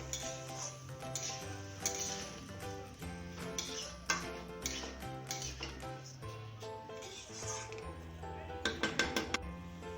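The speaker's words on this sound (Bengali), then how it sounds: "আমি চালগুলো দিয়ে আমি আরেকটু মিশিয়ে নিব এখন ভালো মতন।" A spoon stirs and scrapes rice in a pressure cooker pan during fried rice cooking, giving steady clinks and metallic scraping, close up with no talk.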